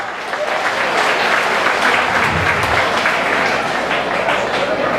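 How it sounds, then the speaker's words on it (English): Dense, loud crowd applause fills a political rally, a steady wash of many hands clapping for the full stretch without letup, with no speech over it. "Can we give them a big round of applause for a great job?"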